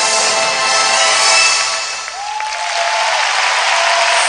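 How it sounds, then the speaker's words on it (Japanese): Arena crowd at a figure skating ice dance event, the World Team Trophy, claps loudly in unison along with the music during a short dance, the rhythmic clapping swelling then easing slightly midway. "場内から手拍子が起こってきます。"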